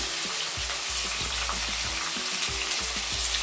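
Onion and tomato fry in a pan for a Kannada-style okra palya, giving a steady close sizzle broken by repeated scraping stir strokes, with no voices.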